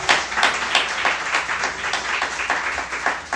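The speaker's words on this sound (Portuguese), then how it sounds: "Você pode aplaudir ao Senhor com o seu melhor?" Church congregation applauding together, a dense, fairly loud run of rhythmic handclaps that pulses steadily and evenly for a few seconds, with no voices over it.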